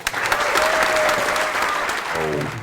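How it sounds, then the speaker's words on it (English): Enthusiastic applause from an audience at a Porsche GT charity event, steady dense clapping filling the whole moment with a few cheers mixed in. "A round of applause, please."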